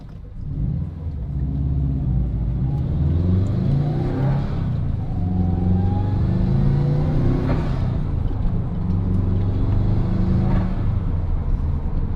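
A 2011 Subaru WRX with freshly changed transmission fluid accelerates up through its gears. The loud engine drone climbs in pitch, drops at each shift, then climbs again, three times in a row, with no talk.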